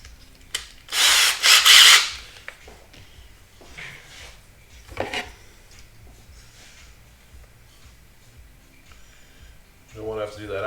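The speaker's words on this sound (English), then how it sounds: "let's drill out the center." Power drill boring out the center of a Rock 'em Sock 'em robot toy, a short loud whining burst near the start followed by quieter clicks and handling noises, with a voice speaking briefly near the end.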